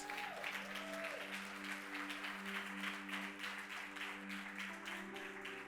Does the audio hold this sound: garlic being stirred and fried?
no